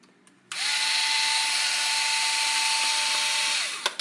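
A power drill spins in reverse to back out bolts on a car engine during an ignition coil replacement, one loud steady whine lasting about three seconds, starting abruptly and then winding down, close and alone.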